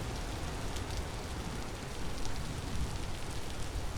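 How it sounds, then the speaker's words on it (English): Rain coming down in the video game Vintage Story, a constant broadband wash of falling drops with occasional light taps, steady and unbroken throughout, no talking. "hydrated from all this rain coming down"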